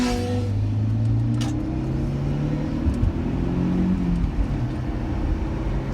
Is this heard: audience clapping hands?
no